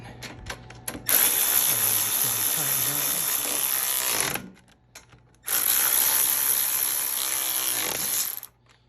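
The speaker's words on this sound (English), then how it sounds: "So I'm just going to use my little electric ratchet." A small electric ratchet drives bolts on an Ariens Deluxe 28 snowblower in two long, loud whirring bursts, each about three seconds, separated by a short pause, heard close up.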